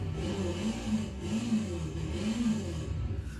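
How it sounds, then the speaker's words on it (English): A motorcycle engine in a video game drones steadily and close, its pitch rising and falling in a few rev swells that repeat through the stretch, with no talk. "A motorcycle?"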